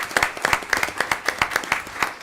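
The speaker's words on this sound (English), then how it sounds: "Can we give them a round of applause again?" A small group clapping for a team at a county board of commissioners meeting, sparse and distinct, with individual claps landing in an uneven rhythm, close and moderately loud.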